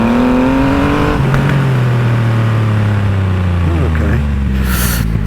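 Triumph Rocket 3 motorcycle accelerating hard, a loud engine note climbing in pitch, dropping at a gear change, then pulling down steadily as it runs on, with strong wind roar throughout.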